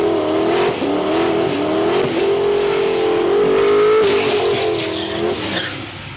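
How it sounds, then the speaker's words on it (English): A turbocharged, stock-cubic-inch street and drag car does a big smoky burnout, its loud engine revving hard and near in a sustained wavering howl over tire squeal for the whole stretch. "the car does big smoky burnouts."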